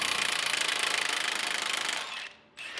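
A pneumatic impact gun hammers rapidly at a bolt on the strut of a 2005-2014 Mustang GT, a loud, close, rattling burst for about two seconds before it cuts out.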